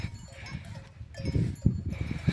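Sheep and lambs on a farm in Nyzhnii Beresiv, Kosiv district, Ivano-Frankivsk region, make a murky livestock soundscape with low shuffling and a few short bleat-like calls rising toward the end, fairly quiet and without talk.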